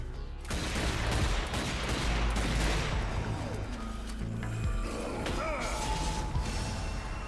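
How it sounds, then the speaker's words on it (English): Pistol shots in the video game Zombie Army Dead War, sharp reports mixed with clanking game effects and crashes over a steady, busy action soundscape, with a voice briefly heard. "Let's kill these guys with the pistol"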